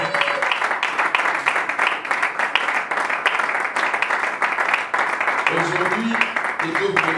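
A church congregation applauding during a French-language service, with steady, dense clapping that fills the whole stretch and voices rising underneath toward the end.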